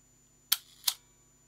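An Olympus PEN F half-frame camera, partly disassembled with its mirror assembly out, releases its shutter in two quick, crisp mechanical clicks, close and quiet, with no talking.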